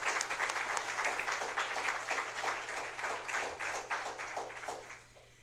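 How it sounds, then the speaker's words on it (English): An audience at a university women's basketball meet and greet gives a warm round of applause, a steady dense patter of many hands that fades out near the end. "help me welcome them to Jacksonville with a round of applause"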